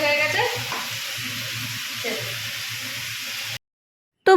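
Potatoes frying and being stirred in a pan, a continuous close sizzle with scraping stir noises, ending in a brief cut to silence and a sudden loud burst.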